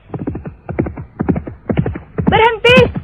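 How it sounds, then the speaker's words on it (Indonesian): A horse being ridden hard by its rider makes loud, rhythmic hoof clip-clops up close, followed by a couple of sharp neighs near the end, with no talk over it. "Ketika tangannya kuat-kuat memegang kendali kuda yang dipacunya"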